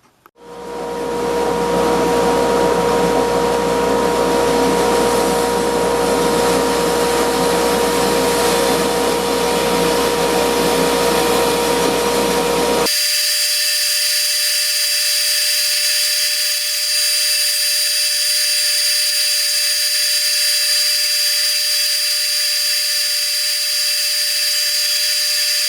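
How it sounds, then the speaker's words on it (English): Bandsaw cutting out a curved piece for a woven wooden cutting board, a loud steady whine with a strong tonal hum running continuously without talk, then shifting abruptly halfway to a thinner, higher steady tone as the blade runs on. "now I'll take this over to the bandsaw and cut this out"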